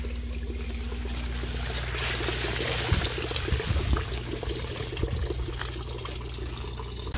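Water runs steadily from a gravity-fed pipe carrying flow from the filter of a duck aquaponics system with fish, a continuous near pouring and splashing trickle.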